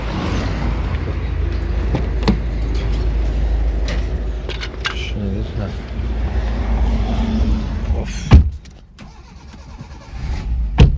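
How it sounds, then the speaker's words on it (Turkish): A Chevrolet Impala V8 fitted with new electronic ignition runs loudly at close range with uneven engine roar and short sharp blips, then drops briefly before rising again near the end. "Peki peki peki gazlıyor muyuz şimdi? Gazlıyor."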